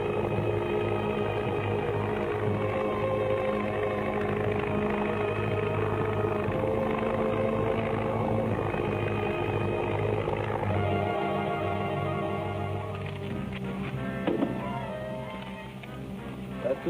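Airplane engine effect in an old radio adventure serial: a steady droning, rumbling propeller engine roar that holds loud and constant throughout, slowly shifting and easing near the end, with no voices over it.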